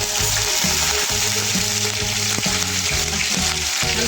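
Curry leaves crackling in hot oil with mustard seeds, cumin and lentils for uppittu, a loud continuous sizzle with dense spitting pops and a rhythmic low clatter running throughout.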